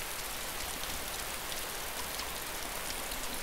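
Steady rain falls in the survival video game DayZ, a constant even hiss of downpour without pause, moderately loud and alone with no voices.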